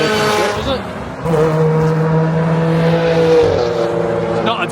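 A race car engine howls close by, its pitch climbing and then dropping as it shifts gears and sweeps past on the track.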